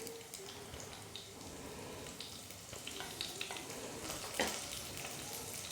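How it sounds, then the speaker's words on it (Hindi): Spices frying in hot oil for a soybean curry, a quiet continuous sizzle with faint scattered crackles and a few soft stirring scrapes, low in level and without speech. "और मसालों को हल्का सा भून लेंगे।"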